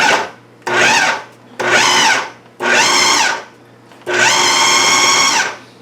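A food processor pulses butter into dry ingredients in four loud, close whirring bursts, each lasting about a second with brief pauses between, the last burst running longer.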